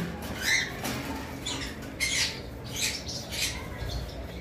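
A pair of lutino cockatiels give repeated harsh shrill squawks, about five bursts spread over a few seconds, close and loud over a steady background hiss.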